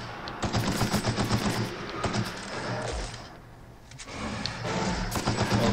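Gunfire in the video game The Outer Worlds crackles in rapid automatic bursts during a fight with creatures, loud and continuous, with a short lull midway before the shooting resumes.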